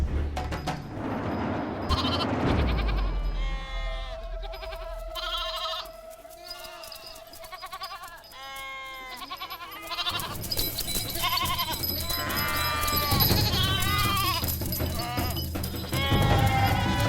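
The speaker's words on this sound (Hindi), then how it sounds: "मुझे देवी माता का बकरा चाहिए" Goats bleat repeatedly with harmonic, wavering cries, several calls overlapping at moderate distance amid a noisy livestock scene, with a brief louder stretch of activity early on.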